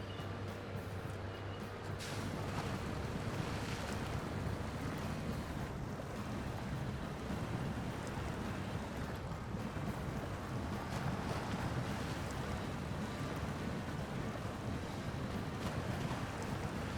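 A Royal truck in SnowRunner, set in Michigan, churns through very deep water, giving a continuous, steady wash of rushing, sloshing noise with no talk over it.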